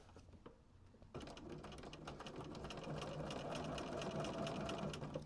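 A sewing machine runs a steady, continuous stitching whir while joining a half square triangle quilt block, starting after a brief quiet pause and holding close and even throughout.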